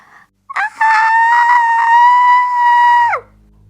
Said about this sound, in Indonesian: Karena berteriak sangat nyaring